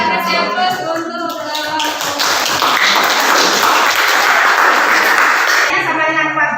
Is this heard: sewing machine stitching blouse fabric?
no